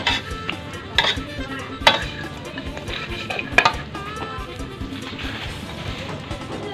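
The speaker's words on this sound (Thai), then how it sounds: "คนไปเรื่อยๆคนไปเรื่อย ๆ ครับพี่น้อง" Pork noodle soup being cooked, with a utensil stirring and scraping in a pan amid ongoing sizzling, several sharper metal clinks standing out near and fairly loud.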